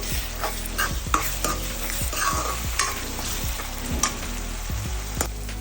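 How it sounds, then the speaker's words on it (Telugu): Ginger garlic paste fries with onions in a pan, a dense continuous sizzle broken by frequent scraping stirs and clinks of the spoon against the pan, close and fairly loud, with no speech. "అల్లం వెల్లుల్లి పేస్ట్ పచ్చివాసన ఫ్రై వరకు ఫ్రై చేసుకోవాలి"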